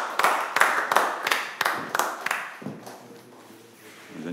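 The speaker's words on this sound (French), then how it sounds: "On applaudit." A small film crew claps at the end of a shoot, a brief burst of close sharp claps in a loose rhythm for a couple of seconds, then fading into quiet room noise with faint voices.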